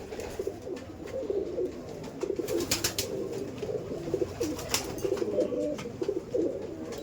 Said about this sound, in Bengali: এখানে ম্যাক্সিমাম গিরিবাজ পায়রার লফটও বলতে পারেন, এখানে ম্যাড্রাস পায়রা আছে